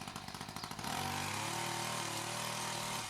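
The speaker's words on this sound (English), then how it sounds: "it's cutting through this mixed hedge with no effort at all" A Webb WEHC600 petrol hedge trimmer chatters in a pulsing idle, then opens up into a loud, steady high buzz as it cuts through a mixed hedge, close and continuous with no talking.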